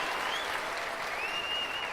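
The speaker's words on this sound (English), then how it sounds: "the crowd are responding to him" A crowd at an Olympic 25m rapid-fire pistol final applauds in a steady, distant wash of clapping, with no clear voices over it.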